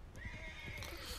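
A horse in Red Dead Redemption 2 gives a quick, shrill whinny that rises and wavers, with faint hoof clops beneath. The sound is brief, fairly quiet and heard alone.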